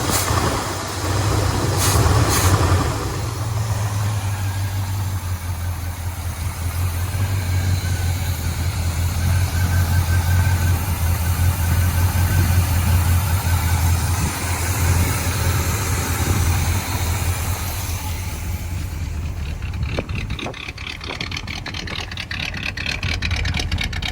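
A 1985 Chevrolet C10 pickup truck engine, sitting for ten years before being started, idles steadily with a low, even rumble throughout, close and loud, with no talk over it.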